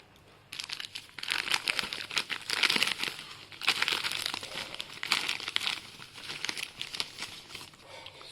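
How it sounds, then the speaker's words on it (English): Plastic shrink wrap on a Mi Band 4 box bought from Amazon is cut and peeled away in steady crinkling, tearing bursts. The sound is close and fairly loud, runs for about eight seconds, and nobody speaks. "Okay, so just cut around the wrap and let's take a quick look."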